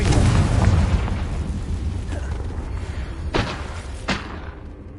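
A Confringo blasting spell in a video game erupts in a loud, rumbling explosion that slowly decays, followed by two sharper cracking impacts.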